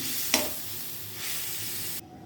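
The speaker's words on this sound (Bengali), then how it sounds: "আগে থেকে করে রাখা পেস্ট আমি এর মধ্যে দিয়ে দিচ্ছি। এবার ঢেকে ভালো করে কষিয়ে নিচ্ছি।" Spice paste sautéing in a covered pan: broad, even sizzle with a brief stirring clatter early on, close and steady, then suddenly dropping to near quiet at the end, no talk.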